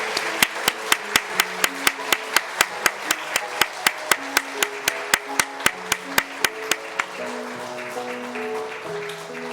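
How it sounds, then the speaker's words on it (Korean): A church congregation at a Sunday service claps in a steady, even beat, sharp regular claps over soft piano chords, then the clapping stops and the piano carries on alone. "우리 퇴장할 때 뜨겁게 박수로 축복해 주시기 바랍니다."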